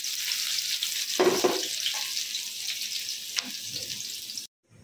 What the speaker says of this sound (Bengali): পেঁয়াজ কুচি দিয়ে দিলাম। পেঁয়াজ কালার চেঞ্জ হওয়া পর্যন্ত ভেজে নেব।